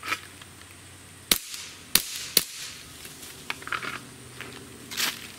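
A suppressed 9mm pistol fires 147-grain full metal jacket rounds: three sharp, muted cracks about half a second apart, then a few softer clicks and a final dull pop, heard fairly close against a quiet outdoor background.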